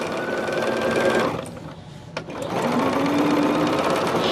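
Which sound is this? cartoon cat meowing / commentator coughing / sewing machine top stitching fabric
sewing machine top stitching fabric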